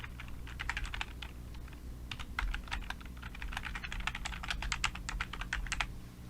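Rapid, uneven keystrokes on a computer keyboard while entering a title in an Excel spreadsheet, close and steady for several seconds with no talking.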